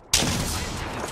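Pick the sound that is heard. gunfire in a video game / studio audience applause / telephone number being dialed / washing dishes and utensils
gunfire in a video game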